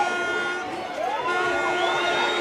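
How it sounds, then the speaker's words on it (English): Loughgiel Shamrocks supporters at an All-Ireland senior club camogie semi-final, a loud sustained crowd roar with rising whistles and shouts, dense and continuous from the stands. "Lucky crowd calling for the whistle."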